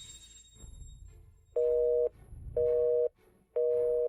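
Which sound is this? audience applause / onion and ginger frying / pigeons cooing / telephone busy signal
telephone busy signal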